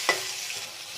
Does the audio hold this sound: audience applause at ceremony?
no